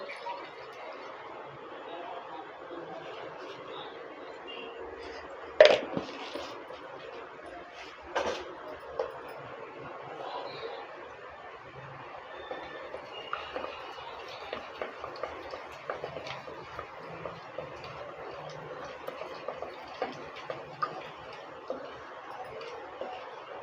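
Mustard seeds and urad dal crackle in hot oil in a home kitchen for a South Indian green gram rice, giving scattered small ticks and pops over a low steady hiss, with one sharper crack near the start.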